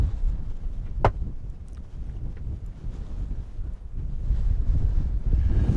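Strong gusting wind buffeting the microphone at a wild camp on Mynydd Mawr, a Welsh mountain, with a Fjallraven Abisko 2 Lite tent pitched; a constant low roar that swells louder toward the end, broken by one sharp flap.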